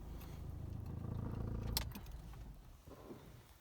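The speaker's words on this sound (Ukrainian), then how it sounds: "Запускаємо двигун." A Toyota Scion xA engine runs at idle, a faint low hum with a soft rattle. The hum fades toward the end.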